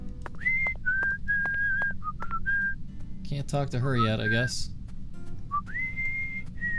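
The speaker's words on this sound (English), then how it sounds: "why is he whistling that song, man?" A character in the video game Deadly Premonition 2 whistles a tune in clear sustained notes with short pauses between phrases, and someone talks briefly over the middle of it.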